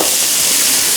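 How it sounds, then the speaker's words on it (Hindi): Chopped tomatoes hit hot oil in a pan for a Pakistani-style omelette, giving a loud, dense, continuous sizzle heard up close. "अब इसमें हम शामिल करेंगे तेल में टमाटर चॉप किए हुए"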